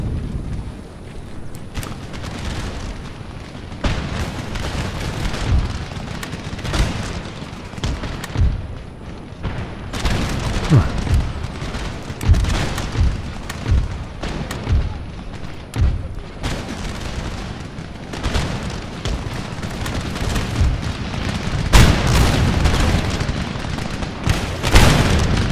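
Musket and cannon volleys from a battle in the video game Empire Total War, with dense, continuous crackling fire and repeated heavy booms over about 25 seconds, loud and close, and no talking.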